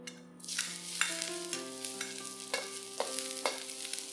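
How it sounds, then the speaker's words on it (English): Garlic frying in hot oil in a pan over medium heat gives a steady sizzle with occasional stirring scrapes, fairly close, over a faint tonal background. "Let this fry for about 30 seconds or so till they are fragrant."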